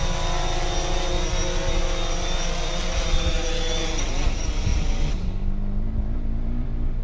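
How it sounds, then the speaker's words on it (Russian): DJI Phantom 4 quadcopter drone coming in to land outdoors in snow, its steady loud rotor whine and buzz close by before it cuts off abruptly near the end, leaving quiet ambience. "Так, сажаем наш коптер."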